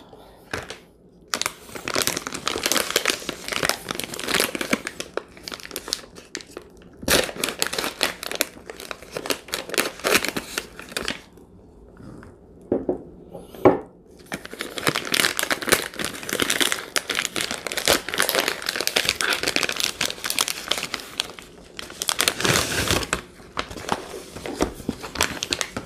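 A Spanish military ration box is opened close up, with repeated crinkling and crumpling of cardboard and plastic packaging in bursts separated by short pauses.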